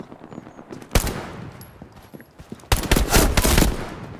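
Machine gun fire in the World War II shooter Hell Let Loose: a short burst near one second, then a loud sustained automatic volley from about 2.7 to 3.8 seconds, close and harsh, with quieter battlefield noise between.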